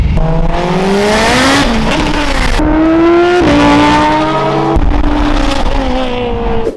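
Loud street-racing cars in Melbourne rev and roar close by, pitch rising and falling as the cars accelerate and shift, with a passing vehicle sweep.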